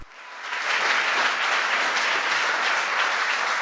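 A White House press briefing audience breaks into loud, sustained applause that rises quickly and stays as a thick, even wash of clapping for a few seconds, with no voices over it.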